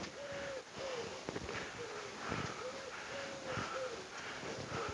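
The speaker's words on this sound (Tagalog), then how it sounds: "Ibon natin naririnig." Birds in the Teatre Grec gardens in Barcelona, with soft repeated cooing calls in a quiet outdoor setting and faint background noise throughout.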